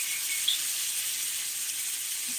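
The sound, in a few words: tri-tip steak searing sizzle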